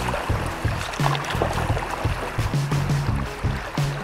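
River rapids on the Prut churning around a raft, continuous rushing and splashing water close by, with short knocks and thumps from the boat and no talking.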